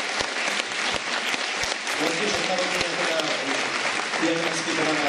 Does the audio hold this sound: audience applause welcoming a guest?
yes